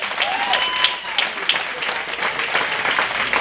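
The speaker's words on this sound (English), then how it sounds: "Everybody give a round of applause for Gayle." Audience at a community leadership awards evening applauding an honoree, a steady full round of clapping with scattered louder claps and faint voices beneath.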